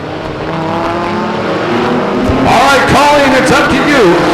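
Racing trucks roar off the start at Stockton 99 Speedway, a loud wash of engines that swells and rises in pitch as they accelerate away, with a voice talking over the engine noise.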